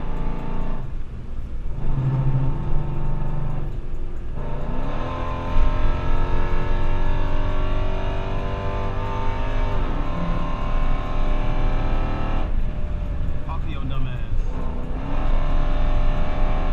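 A car with a 5.7 engine spins its wheels, the engine revving and rising in pitch through several loud, sustained sweeps with shifts between them, heard up close and continuous for the whole stretch.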